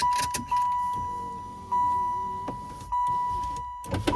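Car power windows run with the key on, as a motor whirs in several short strokes, each starting with a sharp jump and fading away. A steady tone hums underneath, and there is no talk.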